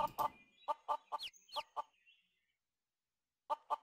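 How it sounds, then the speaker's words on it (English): A rooster in the video game Mabinogi gives a short run of clucks, a series of separate calls followed by a pause and two more, fairly close and heard without other sound. "That's a rooster."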